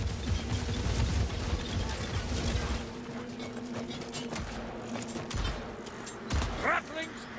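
A ratling gun in Warhammer Vermintide fires a sustained, rapid, rattling stream of shots that later thins into scattered bursts, with a mechanical whir and voices talking over it.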